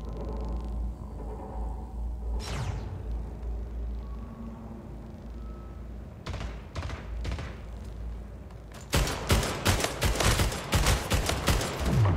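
Gunfire in the Splitgate shooter game: scattered distant shots early on, then a few sharp cracks, and finally a loud sustained burst of rapid automatic fire over rumbling ambience.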